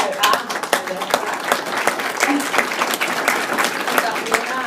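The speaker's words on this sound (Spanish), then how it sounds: "Pido por favor un aplauso a Jorge Flores Manjarres." An audience at a Spanish-language book presentation of "Crónicas de la violencia" applauds with sharp, distinct claps while voices carry on underneath.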